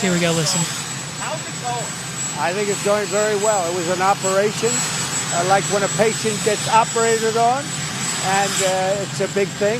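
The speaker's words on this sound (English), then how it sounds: "Apologies for the helicopter or whatever aircraft noise." A helicopter or other aircraft drones overhead as a steady, broad engine rumble beneath continuous talk from a speaker in the foreground.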